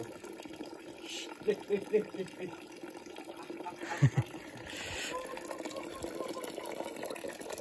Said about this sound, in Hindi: आपने देखा कि कैसे गर्म पानी आ रहा था